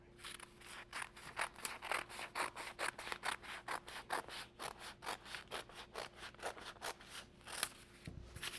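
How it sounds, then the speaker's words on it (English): Repeated rhythmic snipping and rasping of scissors cutting along a crease through paper, close and quiet, a steady series of strokes. "with my scissors, just cut this out"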